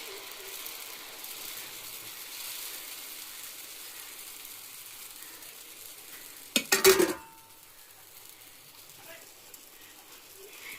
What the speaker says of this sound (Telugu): ఇదిగోండి మా పిల్లల కోసం అయితే దోశలు వేస్తున్నాను.